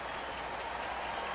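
A baseball stadium crowd applauds at a Colorado Rockies at Arizona Diamondbacks game, a steady wash of distant clapping lasting about a second and a half.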